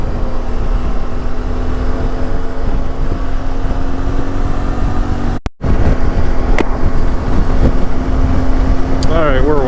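A CFMOTO Ibex 450 adventure motorcycle riding at speed, with a steady engine drone under heavy wind buffeting, a brief dropout partway through, and a rider talking over it.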